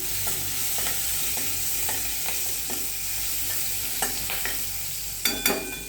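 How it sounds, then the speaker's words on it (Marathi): Spice tempering of fenugreek and seasonings sizzles steadily in a pan over low heat while a spoon stirs it, scraping and clinking at irregular moments, close and continuous with no voices. "आता आपण ही फोडणी छान परतून घेऊया, गॅस कमी करायचा।"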